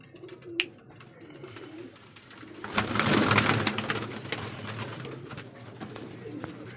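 Pigeons in a breeder's loft at Aliwala, with soft cooing and rustling among the birds, a brief sharp sound near the start and a busier stretch of activity in the middle, close and moderately faint.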